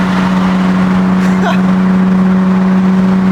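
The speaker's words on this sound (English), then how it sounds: "I just wanted to get up next to that wall for you guys so you can really hear what this car sounds like." A car engine roars up close beside a wall, a loud steady drone with a brief rising rev in the middle, and no talk over it.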